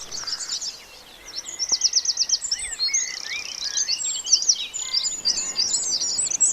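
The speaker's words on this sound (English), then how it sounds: "listen to the sounds of those birds" Birds sing and chirp outdoors in the early morning, with rapid trills and repeated high calls layering over one another at moderate distance, no talking heard.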